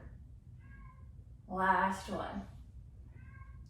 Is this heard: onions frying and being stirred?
no